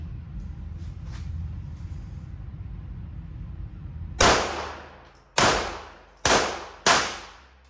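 Four sharp, loud gunshots from a Sig P365XL Spectre pistol ring out in the second half at uneven intervals, each with a quick decaying tail, after several seconds of steady background rumble with no shots.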